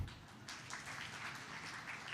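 An audience at the IMPACT Top 30 Under 30 event claps its hands in a steady, fairly faint round of applause, with no talking over it.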